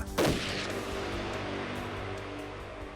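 A bomb blast at a tower erupts as a sharp, loud boom near the start, then settles into a long rumbling roar of debris and reverberation that fades slowly.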